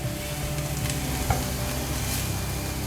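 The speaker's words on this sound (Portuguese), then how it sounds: "Então, levemente a gente refoga o alho" Garlic sautéing lightly in a pan, a continuous close hiss of frying with soft stirring and an occasional tap of the utensil, no talking.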